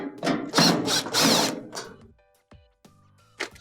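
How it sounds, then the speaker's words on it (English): A power driver with a Phillips bit backs screws out of the top panel of a GE dryer, with a few short whirring bursts up close, then quieter clicks and light metallic taps as the screws come free. "All of them can be taken off with the Phillips bit."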